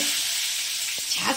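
Wet potatoes hit hot oil in a home kitchen pan, giving a loud, steady crackling sizzle with a few sharper spatters near the end.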